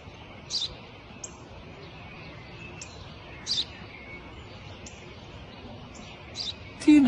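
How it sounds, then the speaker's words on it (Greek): A sparrow chirping, several short sharp chirps spaced a second or two apart, moderately close over a quiet background. "Ένα σπουργίτη."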